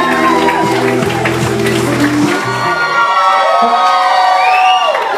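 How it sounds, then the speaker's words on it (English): Loud crowd cheering and shouting over bright, sustained tones, with excited voices rising and calling out together close by at an energetic event. "Lots of applause"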